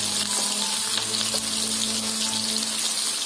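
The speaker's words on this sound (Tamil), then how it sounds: "வெங்காயம் நல்லா ஃப்ரை ஆகட்டும்." Small onions, or shallots, fry in hot oil with a dense, continuous sizzle and crackle, heard up close and unbroken throughout.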